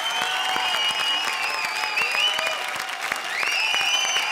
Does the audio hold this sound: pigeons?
no